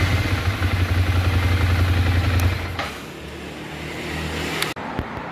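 A Ducati Monster 696 motorcycle engine idles steadily up close for a couple of seconds, then the note drops to a quieter, smoother running hum, ending with a brief sharp click.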